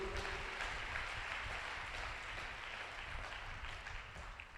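A congregation claps at a church sermon in Guntur, a faint, distant wash of many hands clapping that holds evenly and slowly tapers off, with no speech over it.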